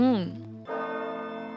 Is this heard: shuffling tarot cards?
no